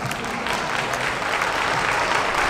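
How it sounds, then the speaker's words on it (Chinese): Audience applause at a school sports meet opening ceremony, a dense steady clatter of many hands held at even loudness throughout, with a faint voice underneath. "来，我们掌声。"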